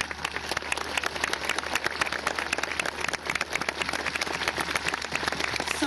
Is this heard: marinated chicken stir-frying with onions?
no